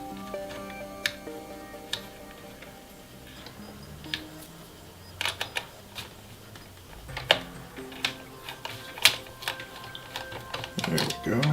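Screws being driven by hand into a Phanteks P500A PC case, with sparse small ticks and metallic clicks at close range over a quiet background.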